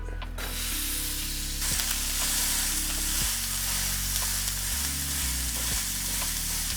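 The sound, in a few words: beef frying in a hot pan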